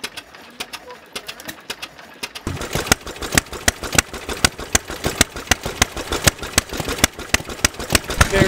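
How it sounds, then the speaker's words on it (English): Antique Fairbanks gas engine driving a Fairbanks pump at an antique engine and tractor show, starting up and then running with a steady, rapid chuffing exhaust beat, close and loud. "Fairbanks pump and Fairbanks motor, gas motor"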